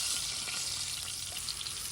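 Creek fish fry in a pan outdoors as they are flipped, a continuous bright sizzle and crackle, fairly faint, with small scraping movements and no voices.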